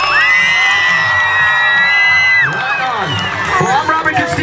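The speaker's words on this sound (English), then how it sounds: "give yourselves and your school a big, loud round of applause" A crowd of school kids cheers and whoops at an outdoor BMX freestyle show, high shrill shouts and screams rising and falling in loud waves, with some clapping under the yelling.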